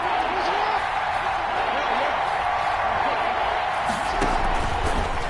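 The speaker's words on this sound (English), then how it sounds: "the crowd getting into it as we come up on a big 3rd down" A stadium crowd in a PS4 American football video game roars as a broad, steady wash of cheering that holds at a constant level throughout.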